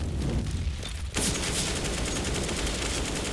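A Counter-Strike match in a DreamHack Masters Las Vegas semifinal erupts with a dense burst of gunfire and a grenade blast, continuous loud crackling shots after a brief lull.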